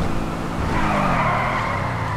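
Car tires squeal and skid through a drift in GTA V, a sustained loud screech rising and holding over the engine's rumble, steady from start to finish with no talking.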